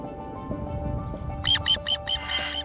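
A little ringed plover mother on her nest in a parking lot gives a run of sharp, loud, high calls in quick succession, rising over a low background hum after a quiet start.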